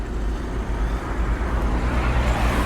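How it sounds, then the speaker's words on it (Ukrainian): A Skoda Octavia estate idles at a used-car market in Rivne, giving off a steady, close low-pitched engine rumble with faint outdoor noise around it and no talk. "Гарно працює двигун заведений"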